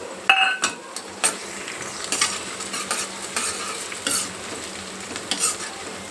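Sliced onions and chopped green chillies fry in a pan while a metal spatula stirs them, giving repeated scrapes and clinks over a soft, constant sizzle. There is no talking.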